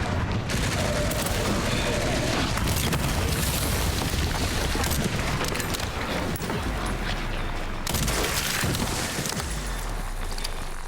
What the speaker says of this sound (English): the one with the machine gun's actually more dangerous than the mortars